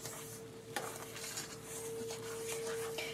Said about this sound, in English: And stir these together